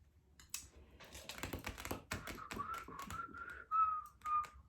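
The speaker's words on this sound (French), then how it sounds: "J'essaye d'apprendre à siffler." Someone whistling a few short, wavering notes, preceded by a flurry of quick tapping and clicking up close.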